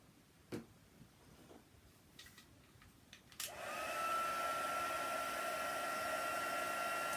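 A craft dryer switches on partway through and then runs as a steady, loud whirring hum to dry chalk paste on a heart-shaped craft project. A few faint clicks and handling noises come before it starts.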